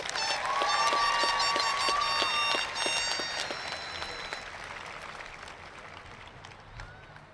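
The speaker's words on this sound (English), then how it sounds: "Please give our IB diploma candidates a round of applause." Audience applause for IB diploma candidates at a 2010 high school commencement ceremony: dense, loud clapping from a large crowd that holds steady, then gradually tapers off.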